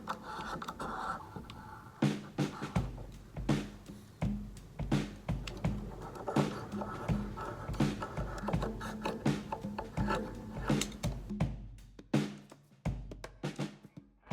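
A hand file rasps jagged edges off a cast resin die in a long run of close, repeated scraping strokes with short pauses between them, some strokes sharper and louder than others.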